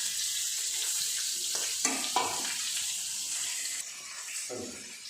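Sliced onions sauté with salt in a hot pan, a steady close sizzle broken by a few scraping stirs of the spoon.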